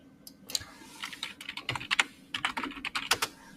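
Quick, uneven clicking of keys on a computer keyboard, close and fairly quiet, typed in short bursts with brief pauses and no talk.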